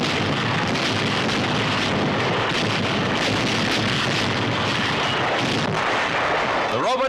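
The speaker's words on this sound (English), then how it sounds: "Anti-aircraft guns open up." Anti-aircraft guns fire at night during wartime, a dense, continuous roar of rumbling blasts and crackling reports, loud and sustained, with a narrator's voice faintly woven through the din.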